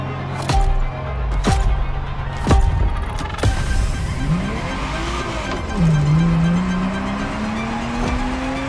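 A Ferrari Testarossa in The Crew Motorfest racing game, several sharp engine revs and quick gear changes followed by a rising, sustained engine note, loud and close with no talk.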